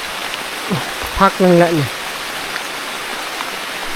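Steady rain falls in a deep forest at night, a dense even hiss throughout, while a person briefly speaks nearby over it.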